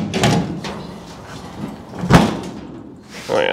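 An old car's bent hood is pushed down and catches on a single latch with a sharp metallic slam near the middle, preceded by lighter clunks and handling noise, and followed by a short voice at the end.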